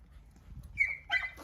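Excited young puppy giving two short high-pitched whines in quick succession, close and clear over a quiet low background rumble.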